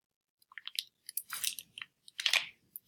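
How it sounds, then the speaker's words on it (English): Someone eats a popsicle close up, with wet crunching bites and chewing in irregular bursts over about three seconds, no talking. "I'm eating a popsicle, so that's the noise that you might be hearing in the background"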